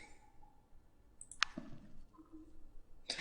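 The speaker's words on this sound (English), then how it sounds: "Let's create a new discussion for this task by clicking on the Start Discussion link" Computer mouse clicks on a link, several sharp and quiet clicks spread unevenly over a few seconds against a faint background hum, with no voices.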